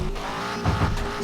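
Racing video game car drifting, its engine droning steadily with a brief squealing tire skid swelling in the middle, loud and close with no talk.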